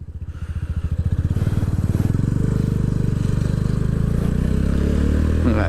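A motorcycle engine during basic rider training at a beach, idling with a steady close throb that builds into a louder, sustained rev.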